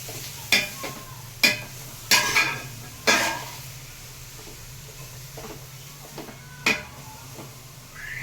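Grated bottle gourd cooks in ghee in a pan for halwa, stirred with a spoon that scrapes and knocks several times at irregular intervals over a soft, continuous sizzle.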